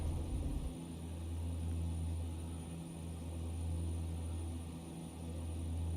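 The turboprop engines of a Saab 340 in X-Plane 11 drone low and steady through the takeoff roll, a fairly quiet, continuous hum with no talking.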